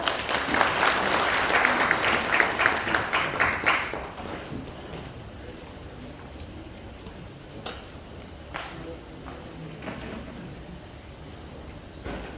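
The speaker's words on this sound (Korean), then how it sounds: "큰 박수 부탁드리겠습니다." Applause from an audience gathered for a labour-movement history lecture, a dense burst of clapping for about four seconds that then drops away, leaving a quiet room with faint scattered sounds.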